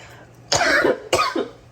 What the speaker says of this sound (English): see, I'm coughing already